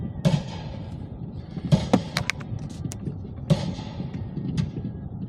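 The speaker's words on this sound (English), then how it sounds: "can see the fireworks" Fireworks at a pyro musical, several sharp distant bangs and crackles spread across the stretch, the loudest bursts near the start, middle and later, over a quiet low background.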